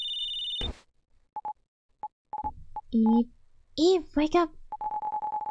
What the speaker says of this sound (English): The phone's been pinging non-stop for a while now.